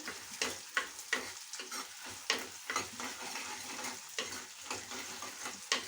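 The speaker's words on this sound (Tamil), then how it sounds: "சுண்ட வத்தலையும் போட்டு வதக்கிட்டு" Dried turkey berries (sundakkai) being sautéed in a pan for vatha kuzhambu: a steady sizzle carries rhythmic, repeated spatula scrapes and stirs, close and clear, with no voices.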